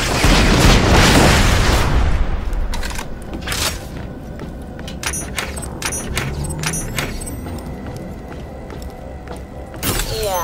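Turrets being blown apart in Borderlands: The Pre-Sequel, with a heavy booming blast at the start followed by a dense run of sharp metallic bursts, pops and clanks, and another impact near the end.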